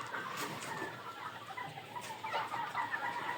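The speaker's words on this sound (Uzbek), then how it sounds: "Adlerdan go'shtdorroq xo'rozlari." Meaty Adler-bred roosters, about ninety days old and 1.6 kilograms, cluck and chatter in short overlapping calls nearby, with no one talking.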